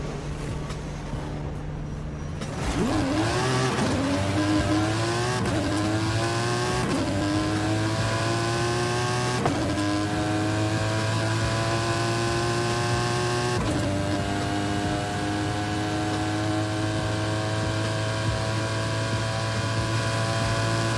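A drag-tuned all-wheel-drive car in Forza Horizon 5 launches down a drag strip, its engine note climbing loudly through several quick gear changes, each shift dropping the pitch before it winds up again. No one speaks.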